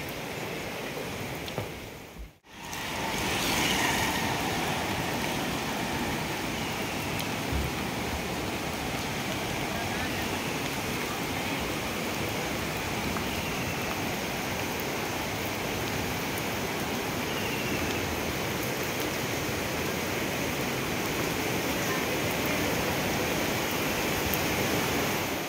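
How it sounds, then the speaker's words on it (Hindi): A fierce river in the hills of Dhankuta, Nepal, rushes with a loud, steady, broadband roar that continues without a break after a brief dip at the start. "काफ़ी भयंकर नदी है।"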